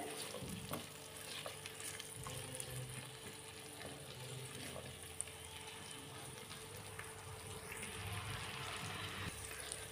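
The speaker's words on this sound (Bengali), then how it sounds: "এইভাবে আদাটা এইভাবে তেলের সাথে মিক্সড করে একটু ভাজি ভাজি করে নিতে হবে" Ground ginger frying in oil, a faint, even sizzle with soft stirring scrapes running throughout at low volume.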